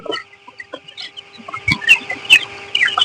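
Several chickens cluck in short, scattered bursts close by, over a faint steady hum, with no talking.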